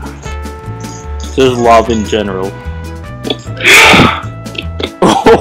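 A single sharp sneeze bursts out amid casual gaming chatter, loud and close, with people talking before and after it over background game music.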